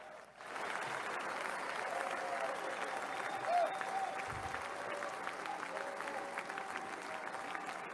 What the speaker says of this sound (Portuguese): O público se ergue, vamos ouvir os aplausos.